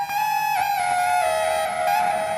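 A sustained, heavily distorted electric guitar chord rings out alone, gritty and buzzing, with a slight re-strike partway through.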